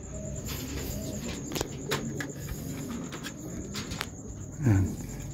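Racing pigeons being loaded for release in Irosin, Sorsogon give soft low cooing under a faint insect drone, with scattered handling knocks and one louder thump near the end.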